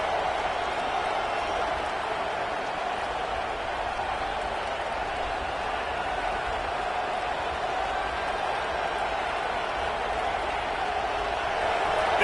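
Steady stadium crowd roar in the College Football 26 video game, a continuous dense wash of distant cheering and noise that holds level throughout the stretch.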